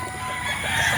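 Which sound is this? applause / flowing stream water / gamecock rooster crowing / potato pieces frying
gamecock rooster crowing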